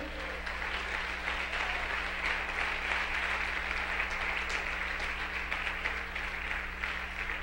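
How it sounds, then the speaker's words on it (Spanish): A church congregation applauding during a Spanish-language apostolic service, a dense sustained wash of clapping from many hands filling the room, steady and even throughout with a low hum underneath. "Dele un aplauso al Señor."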